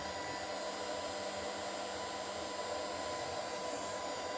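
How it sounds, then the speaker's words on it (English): A heat gun blows steadily to get a fire started on a cold day, a loud, even rushing whoosh that holds unbroken throughout, with no talk. "I light fires with a heat gun."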